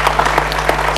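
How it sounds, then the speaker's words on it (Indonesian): Dense, steady audience applause fills the room at a 2010 Elderly Day celebration, loud and close throughout with no voices over it. "kita beri tepuk tangan yang meriah"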